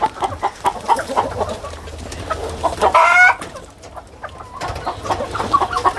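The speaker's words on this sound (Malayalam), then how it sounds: "ഇത് ഗ്രാമശ്രീയാണ് അത് കരിങ്കോഴിയുടെ മിക്സാണ്" Gramasree chickens, a cross with the black Kadaknath (karinkozhi) breed, cluck and call nearby on a poultry farm, with repeated short clucks and one louder drawn-out squawk in the middle.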